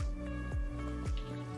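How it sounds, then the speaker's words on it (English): Moist moss is squeezed by hand to wring out excess water, giving several soft wet squelches and drips in an irregular rhythm, close and fairly quiet. "So make sure you squeeze out all the excess water"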